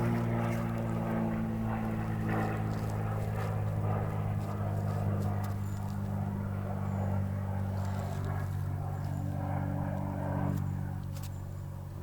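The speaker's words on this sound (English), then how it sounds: "Hold on, there's a plane." A propeller airplane flies overhead with a loud, continuous, steady droning hum that holds throughout and eases slightly at the end, with no talking.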